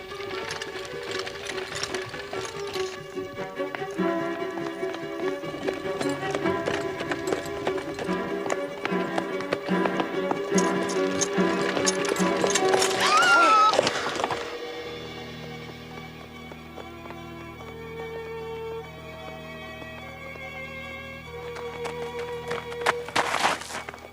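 Horse hooves clip-clop at a quick, steady pace over a busy, rattling mix; the trotting fades after about fourteen seconds, giving way to quieter sustained tones.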